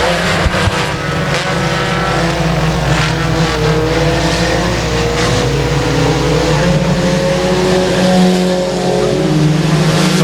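Four-cylinder race cars roar around a dirt speedway in a main event, a loud, continuous blend of engines close by, pitch rising and falling as the field runs down the back straightaway.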